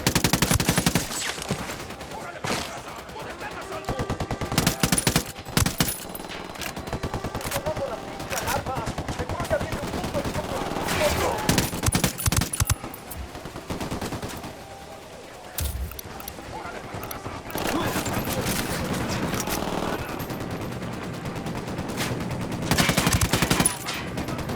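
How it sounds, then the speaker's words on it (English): Gunfire in the video game Ghost Recon Wildlands, with dense automatic bursts and single shots cracking repeatedly across a chaotic firefight while a voice talks intermittently over the action. "I'm opening fire on these shitheads."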